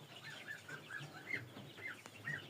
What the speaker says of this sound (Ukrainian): Тут у нас каченятка, курчатка.